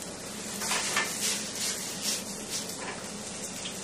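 Pears cooking in a pan after a splash of white wine is added, giving a steady broadband sizzle with soft stirring and utensil clinks against the pan, close and continuous, with no talking.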